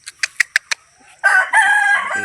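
A household rooster gives several short clucks, then breaks into a loud, close crow that fills the rest of the moment.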